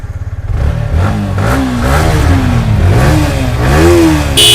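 A second-hand milky white motorcycle, a late-2022 model in clean condition, revs repeatedly up close, its loud engine note climbing and falling in several sharp bursts after a clattery idle start.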